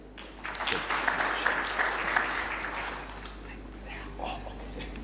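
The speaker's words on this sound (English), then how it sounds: "Another round of applause to Dr. Ezekiel." An audience claps at a diaspora homecoming convention, a dense burst of applause that swells and then tapers off over a few seconds, with faint voices underneath.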